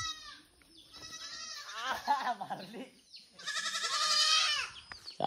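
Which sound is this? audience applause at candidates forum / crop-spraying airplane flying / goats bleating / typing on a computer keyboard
goats bleating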